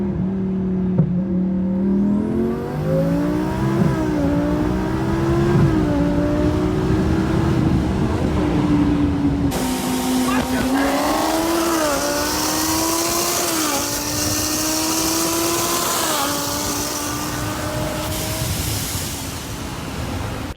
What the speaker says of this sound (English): You can really hear the car not shifting as it should in these videos.